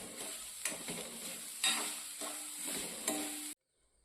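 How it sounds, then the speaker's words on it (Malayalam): Grated coconut dry-roasting in a pan until brown, with a steady close sizzle and repeated scraping stir strokes for about three and a half seconds before it cuts to near silence. "ഈ തേങ്ങ നമുക്കൊന്ന് ബ്രൗൺ കളറിൽ വറുത്തെടുക്കാം"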